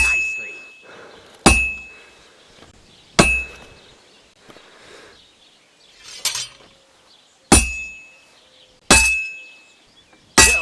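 A blacksmith in Kingdom Come Deliverance 2 strikes metal on an anvil: six loud, ringing clangs spaced about one and a half seconds apart, each decaying slowly, with faint quieter taps between them.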